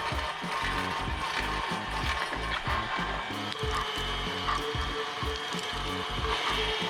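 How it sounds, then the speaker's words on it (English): Meat grinder running pork filling through its plates for stuffed chicken wings, with the meat partly frozen beforehand; a steady, loud mechanical grinding with dense crunchy rattling that continues throughout, with no talking. "It's going to be pork and other ingredients, and so we'll start grinding now."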